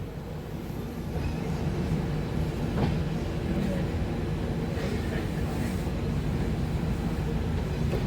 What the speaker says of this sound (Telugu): మన ట్రైన్ అయితే స్టార్ట్ అయిపోయింది కోలిం జంక్షన్ నుంచి